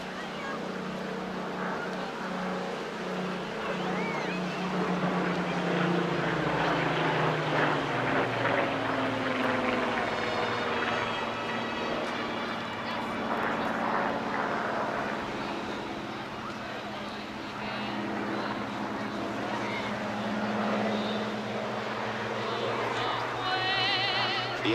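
A BBMF Hawker Hurricane flying at the Clacton Airshow, its piston engine droning steadily and swelling as it passes, with a voice talking over it.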